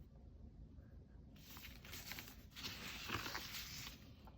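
A pencil presses hard across a paper postcard, making faint, dry, scratchy strokes that begin after a quiet moment and continue in short, uneven bursts.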